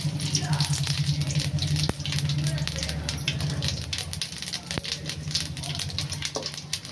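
Crab curry ingredients frying in hot oil in a pan, a steady crackling sizzle throughout with a couple of sharp clinks, a voice speaking over the cooking.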